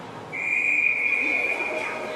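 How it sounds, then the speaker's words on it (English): Referee's whistle at a varsity ice hockey game, one long steady shrill blast in an arena, with crowd noise and a commentator's voice around it. "Get a whistle here."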